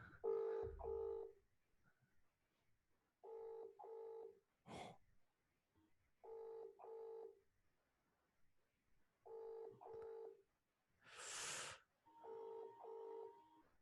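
An outgoing telephone call rings out with paired tone bursts repeating every few seconds at a moderate level, with faint breaths and brief noisy bursts between the rings.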